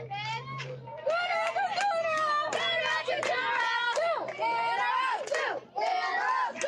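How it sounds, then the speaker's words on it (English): Girls' softball dugout cheering during a ponytail-league game between Sierra Vista and Bisbee, a loud sustained group of young voices chanting and yelling in rhythmic bursts throughout, close and continuous. "No lack of cheering from the Sierra Vista dugout."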